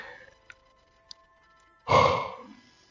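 A person yawns with a loud, breathy exhale that swells and then fades over about a second, following a quiet stretch with a couple of faint clicks.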